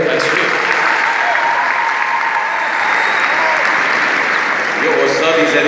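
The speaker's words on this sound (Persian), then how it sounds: "تشویق نداره؟ تشویق." Audience applause fills the room steadily for nearly six seconds, a loud, dense wash of clapping with a brief swell near the end, heard at a live presentation where a knife technique is being demonstrated.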